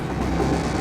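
A moving train carriage, a steady low rumble and hum of rolling wheels, continuous and moderately loud with no distinct clacks.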